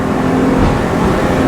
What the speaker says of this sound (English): Okay, that's wide open throttle